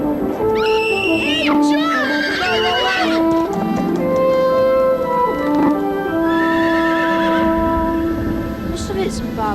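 A unicorn from a British children's fantasy show lets out a loud, high horse-like whinny that rises and falls over a dramatic musical score, with hooves and other action sounds in the mix.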